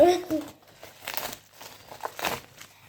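Packaging from a Temu haul crinkles and rustles in short bursts as a parcel is unwrapped, with a voice speaking briefly at the start.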